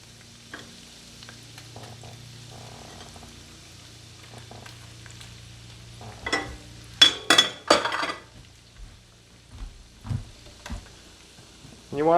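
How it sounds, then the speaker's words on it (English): Shrimp tossed into a pan of butter and garlic over medium heat, giving a burst of sizzling and clinking around the middle, then scattered stirring and spatula taps against the pan. "Now we can throw in our shrimp."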